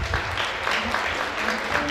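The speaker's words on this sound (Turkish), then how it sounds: "Ona ve yönetimine bir alkış istiyorum sizden." An audience at a Turkmen festival concert in Mucur, Kırşehir applauds the host and his administration, brief dense clapping with voices mixed faintly beneath it.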